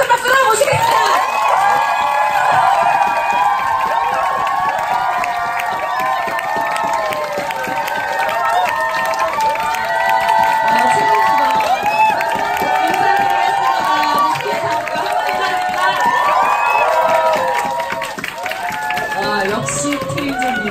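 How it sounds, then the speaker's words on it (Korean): An audience at a business group meeting cheers, whoops and claps to welcome a speaker. The crowd noise stays loud and sustained for about seventeen seconds, then eases off, with voices mixed throughout. "큰 박수로 한번 모셔보도록 하겠습니다"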